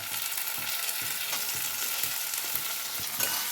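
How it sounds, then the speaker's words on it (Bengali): Green tomatoes sauté with fried onions in a pan, a steady, dense sizzle with faint rhythmic scraping of stirring throughout and no voices. "টমেটোটা দিয়ে ভালো করে আমি কষছি"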